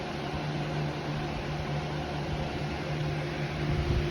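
A VIVOSUN 4-inch inline fan with smart controller runs steadily in a grow tent, a constant broadband airy whoosh with a low hum, even and unbroken throughout.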